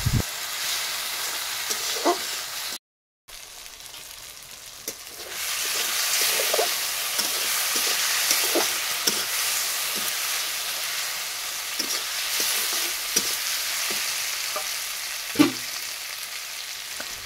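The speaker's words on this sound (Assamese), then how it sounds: "মই ভাজি লৈ আছোঁ।" Kuchia eel fried with spices in a pan makes a steady, close hiss of sizzling oil that runs throughout, with scattered stirring taps and one brief dropout near the start.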